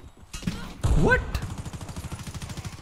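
Gunfire in a tactical shooter video game during a bomb-plant round, a sudden burst of shots followed by rapid rhythmic popping, with a player's voice briefly heard.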